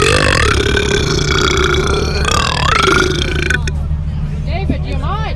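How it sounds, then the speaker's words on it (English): A person lets out a long, loud, drawn-out burp that lasts several seconds, then it cuts off and speech follows. "Burp alert!"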